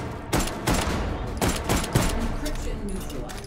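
Submachine gun fire in the H3VR virtual reality shooter, several sharp bursts of shots spaced through the scene, loud and close, with a voice talking underneath.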